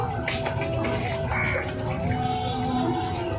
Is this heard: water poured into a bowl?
yes